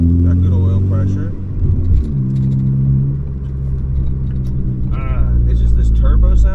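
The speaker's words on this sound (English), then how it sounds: "It's just this turbo sound is really bothering me." Ford Focus ST engine fitted with a Sidewinder turbo kit idles with a steady deep rumble and a worrying turbo note, loud and close throughout with a slight swell near the end.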